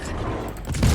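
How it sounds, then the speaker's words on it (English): A naval HE shell salvo fires in World of Warships as a brief, rumbling boom that swells toward the end of the moment. "Our HE salvo finishes him."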